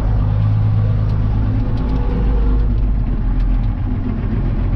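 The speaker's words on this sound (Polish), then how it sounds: "Przepuścimy te samochody" Cars pass on a country road by farm fields, heard from inside a tractor as a loud, steady low engine rumble with no talk.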